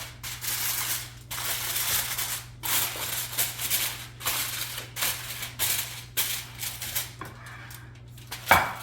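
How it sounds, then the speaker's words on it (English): Aluminium foil being pulled and pressed over a tray of rising cinnamon rolls gives a steady run of close crinkling and rustling bursts, with short pauses between handfuls and a sharper crackle near the end. "I'm going to cover them with foil."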